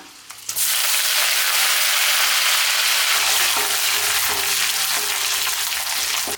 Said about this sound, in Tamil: எண்ணெய் நல்லா சூடாயிடுச்சு கடுகு சேர்த்துக்கலாம் கடுகு நல்லா வச்சு கடலப்பருப்பு சேர்த்துக்கலாம்